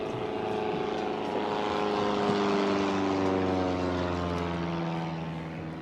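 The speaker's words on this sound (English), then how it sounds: "a little low flying plane here coming over" A small low-flying plane passes over the coast near Seaford Head, heard from a boat at sea: a steady, fairly loud droning engine hum that holds for the whole stretch and swells slightly in the middle, with no talk.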